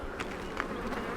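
Honey bees buzzing around a hive during a honey check, a dense close hum with a few louder passes of individual bees.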